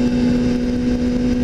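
A motorcycle exhaust drones at steady speed, a loud low hum with a strong constant tone and no revving.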